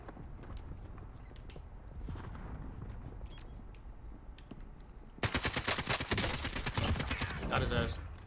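Rapid automatic gunfire in Call of Duty Warzone with an AK-47 loadout, a dense, loud burst of repeated shots that erupts after several seconds of quieter game ambience with scattered faint shots and footsteps.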